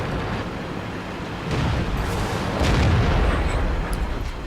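A heavy tank cannon firing in a tank video game, a dense rumbling boom and sustained roar of battle noise that swells louder toward the middle, with no voices.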